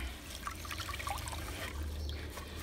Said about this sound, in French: Avec une éponge, taloche éponge, on la rince, on met dans l'eau,